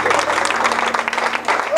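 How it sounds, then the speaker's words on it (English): Church congregation clapping steadily and loudly at a revival gathering for a visiting pastor, a dense continuous wash of hands throughout, with a voice speaking over it and a faint rising tone near the end. "Keep on clapping."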